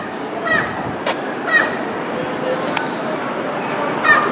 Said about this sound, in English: Seagulls nesting on every window and crevice they can.